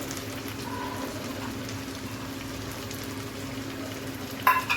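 Turmeric, chili and coriander powder with salt frying in a pan for a shrimp malai curry, a faint, even, soft sizzle that stays steady, ending in a brief clatter.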